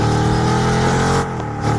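A car engine in the mobile game Car Parking Multiplayer hums at a sustained rev with a strong harmonic drone, dipping briefly near the end before climbing again, loud and close with no talking.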